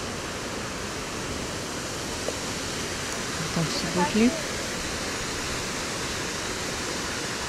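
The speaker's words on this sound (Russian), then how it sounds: "Вот с этой стороны река." A river flowing and tumbling down a waterfall at night in Antalya, Turkey, producing a steady broadband rush that holds constant throughout, while a nearby voice briefly talks over it.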